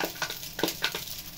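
Leftover fried rice is stirred in a pan: a few quick, soft scraping strokes with a light sizzle underneath, close but quiet, with no voices.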